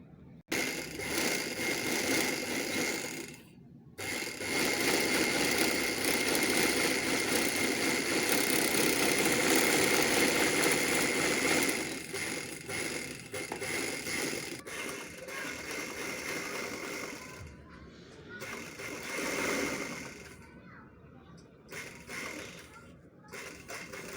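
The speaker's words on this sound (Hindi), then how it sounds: "तो चले हम सिलाई करते हैं।" A sewing machine runs in bursts while stitching the lining of a shirt, a close mechanical whir with short stops between runs and light handling sounds.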